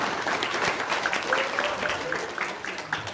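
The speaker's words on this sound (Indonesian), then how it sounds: "Sip, tepuk tangan dong." An audience at an Indonesian seminar session gives a round of applause, with continuous clapping and crowd voices blending underneath.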